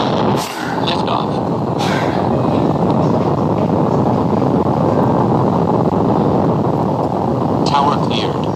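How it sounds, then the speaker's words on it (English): A rocket engine roars at liftoff, a dense, sustained broadband roar that stays loud and even, with brief crackling bursts near the start and end. "engine start, 1, liftoff."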